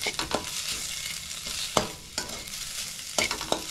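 Salted egg being stirred in a pan, a soft continuous sizzle with several sharp scraping strokes of a spatula against the pan, close and fairly quiet.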